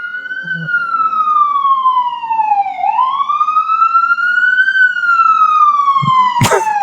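A loud wailing siren sweeps down and back up in pitch as a vehicle passes close by, with a short clatter near the end.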